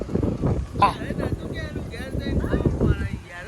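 Gusty wind buffets the microphone in low, rumbling bursts while people talk nearby.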